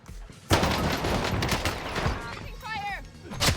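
Dense bursts of rapid gunfire crackle close by in a game, with a short voice-like call rising briefly near the end.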